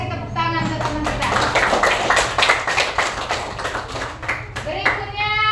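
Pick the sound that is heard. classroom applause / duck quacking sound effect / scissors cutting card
classroom applause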